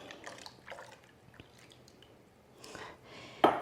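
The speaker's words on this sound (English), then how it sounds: "you're just going to pour it over top of your rice and sugar mixture" Milk poured over a rice and sugar mixture for old-fashioned English rice pudding, a few soft, brief liquid splashes and trickles separated by quiet gaps, ending in a short louder splash.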